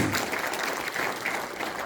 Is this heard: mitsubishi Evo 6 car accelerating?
no